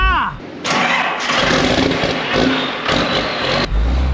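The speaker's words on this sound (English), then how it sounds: "we're gonna go ahead and just give her a crank and see what happens" An old Ford engine with no belt fitted cranks briefly, then catches and runs loud and close at a rough steady roar for several seconds.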